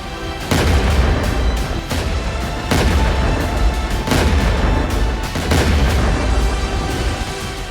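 Missile strikes and explosions during a US attack on Iranian cities, heard as repeated loud booms and blasts at irregular intervals over continuous rumbling, with no voices.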